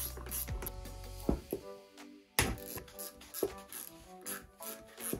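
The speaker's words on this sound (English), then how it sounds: "10mm spanner on those two" A 10mm spanner working the two long nuts on a 12-volt Fenner hydraulic pump motor during strip-down; close metallic clicks, ratcheting taps and small clanks in irregular bursts, fairly quiet, with no speech.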